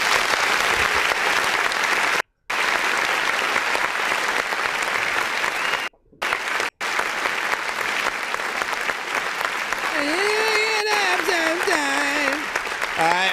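Dense, continuous crowd applause plays as a sound effect during an online music review show, steady and loud throughout, with a couple of brief dropouts and a voice briefly heard near the end.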